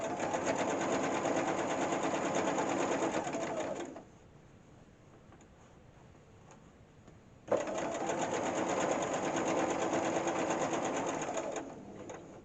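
A sewing machine stitches a flat felled seam along the very edge of the fabric, running steadily and loudly for about four seconds, pausing briefly, then resuming for another stretch of even, continuous whirring.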